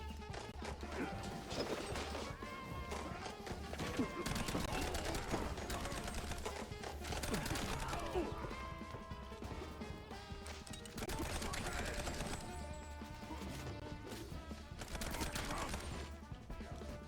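Gunfire in the video game Mouse P.I. For Hire: sharp shots and impacts crack out repeatedly over a dense, steady game soundtrack, with bursts clustering throughout.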